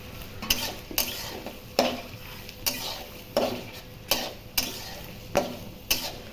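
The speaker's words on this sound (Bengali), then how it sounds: "কাজু কিশমিশ হালকা ভাজা হয়ে গেছে, এখন দেব গাজর ও ক্যাপসিকাম।" Carrots and capsicum with cashews and raisins are stir-fried in ghee for a vegetarian fried rice, with regular, close scraping strokes about every half second over a continuous sizzle.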